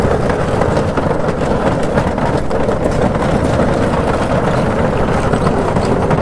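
Motorbike rumbling across a bamboo bridge over the Kangsabati river, a steady loud broadband roar with rattling texture held for the whole stretch, close by.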